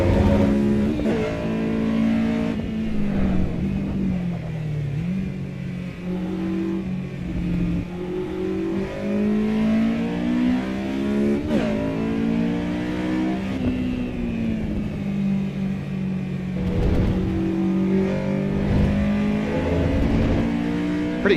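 A race car accelerating in the driving game AC Evo on a cold-tire outlap, its engine a continuous loud drone that climbs and dips in pitch through gear changes, with no talk over it.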